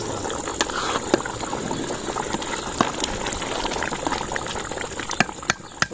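Charbi pulao rice cooking on a high flame bubbles in a continuous boiling hiss, with scattered sharp pops and crackles standing out near the end.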